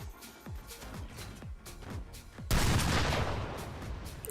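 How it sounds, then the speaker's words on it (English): Cannon fire from witch cannons in the Forts artillery strategy game: a run of repeated sharp booming shots, then a sustained loud roar of overlapping blasts and explosions, with no talking. "Those are witch cannons."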